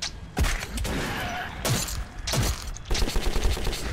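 Gunfire in the video game Metro 2033, a weapon discharging both rounds at once: several loud, sharp blasts spread over a few seconds amid dense, noisy in-game ambience, with no talking.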